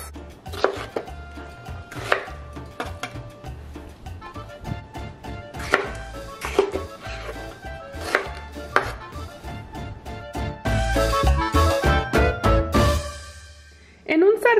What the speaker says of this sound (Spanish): Vamos a cortar. Ahora continuamos con los tomates.